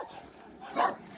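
Excited rescue dogs at a shelter give one brief bark or yelp near the end, rising over quiet room noise.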